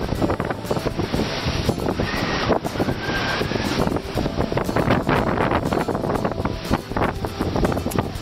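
A sailboat at sea between Bermuda and North Carolina is out in a steady 15 to 20 knot southwest wind. Gusting wind buffets the microphone loudly, with rushing water underneath and no voices.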